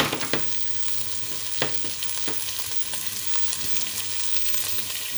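Onions sizzle in a beef pan with browned bits on the bottom, a steady faint fry with a few sharp clicks from stirring and no voices.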